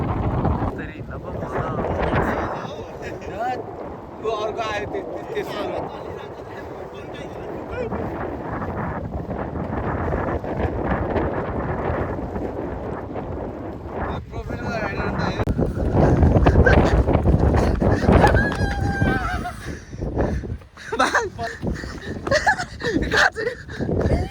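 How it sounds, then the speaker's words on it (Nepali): Strong seaside wind in Wakayama, Japan buffets and roars across the microphone without letup while people talk underneath, with the gusts growing heavier partway through. "यो ठाउँमा हावा यस्तो फुवाल चलिरहेछ"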